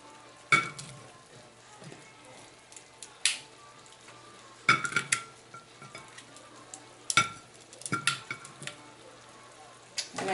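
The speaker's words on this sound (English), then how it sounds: "push them all to one side and then add your asparagus back" Shrimp and asparagus sizzle steadily in a pan of lemon butter garlic, broken by repeated loud scraping stir strokes and clatters of a utensil against the pan, with no talking.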